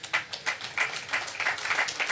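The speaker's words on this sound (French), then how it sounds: "je vous demande de les applaudir" Applause from the crowd at a patronal festival reception in Le Gosier, Guadeloupe: steady clapping from many hands, fairly close and moderately loud, continuing without a break.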